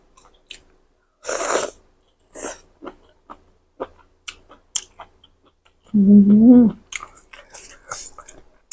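Crunchy chewing of spicy Thai squid tentacle salad, close and loud, with a series of short crisp bites and crunches in uneven rhythm, plus a brief hummed or voiced sound midway.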